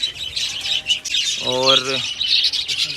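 Budgerigars in a 60-pair breeding colony chirp and twitter in quick, bright bursts nearby, joined midway by a short harmonic call, with someone speaking briefly over the birds.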